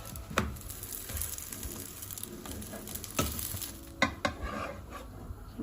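Vegetarian tacos crisp in spray oil in a pan, a steady close sizzle broken by several scraping stirs and clinks of a utensil against the pan, with no talking.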